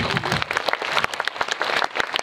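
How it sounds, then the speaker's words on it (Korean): A large audience of about 280 people applauds at a Korean film talk event for the movie The House of Us, dense steady clapping filling the room throughout without speech. "큰 박수 부탁드릴게요"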